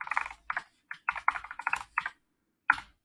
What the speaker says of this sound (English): So I need to type in my personal information.